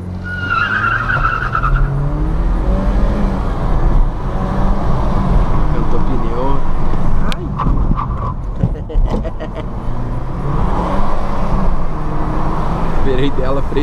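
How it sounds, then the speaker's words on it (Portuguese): A BMW 118i Sport GP in Sport mode does a launch-control start, its engine roaring loud and close through hard acceleration, with a brief tire-squeal edge and a person talking over it throughout. "Vou jogar no modo Sport mais. Vou fazer um launch control aqui."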